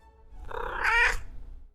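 A single drawn-out cat meow, close and clear, rising in the middle and fading over under two seconds with no voices around it.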